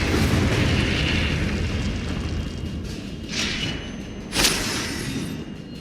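Incendio fire spell blasts in the video game Hogwarts Legacy: two short whooshing bursts, the second sharper and louder, rising over a steady dense game backdrop.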